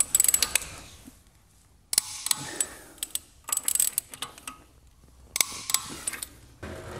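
Wrench working lug nuts on a Tesla Model 3 with Vossen three-piece wheels, heard as close ratcheting clicks in several short irregular bursts separated by quiet gaps.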